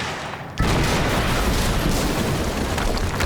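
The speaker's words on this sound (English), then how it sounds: "HQ, we just heard an explosion near the harvesting perimeter." Explosion in the action game Quantum Break: a sudden loud, broadband blast that fills the scene after a brief quiet lead-in and rumbles on steadily without fading.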